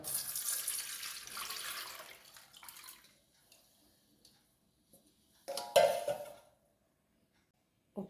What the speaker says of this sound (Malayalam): നമുക്ക് ആദ്യം തന്നെ ഈ ഉപ്പ് വെള്ളം ഒന്ന് അരിച്ചെടുക്കാം